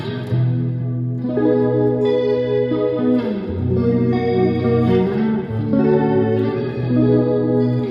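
A sustained electric guitar plays chords drenched in heavy reverb and chorus, notes blurring together in a wide, spacey wash.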